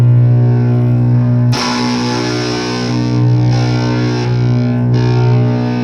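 A droning, heavily distorted electric guitar sustains a thick chord with the boost turned fully up, loud and continuous, with a brighter, harsher layer entering partway through and swelling in waves.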